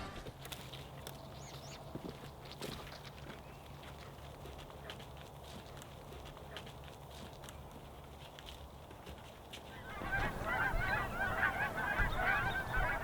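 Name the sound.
geese honking while landing on field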